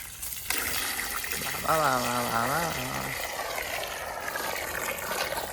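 Water runs and trickles steadily nearby from a tractor radiator, with a voice speaking briefly partway through.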